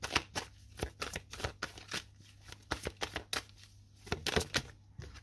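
Tarot cards shuffled for a reading, a dense run of crisp riffling flicks in quick irregular bursts, close and clear, with no talking.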